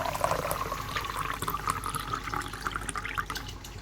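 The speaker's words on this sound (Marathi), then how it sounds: "आता पाणी टाकतोय मी" Water poured into a cooking pot of Maggi noodles, a steady close-up splashing and trickling stream running continuously throughout without any talk.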